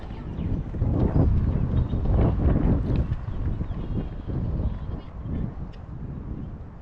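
Wind buffets the microphone at a neighborhood fishing pond, a loud, steady rushing rumble with gusty swells that fills the whole stretch.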